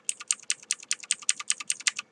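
Computer keyboard keys tapped about ten times in a quick, even rhythm, each keystroke a crisp close click in an otherwise quiet room.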